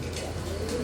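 A Jacobin pigeon gives a short, soft, low coo, close by and faint, against a steady background hum.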